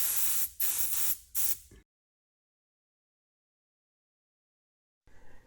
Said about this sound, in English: this one does go really nicely straight through the airbrush without any dilution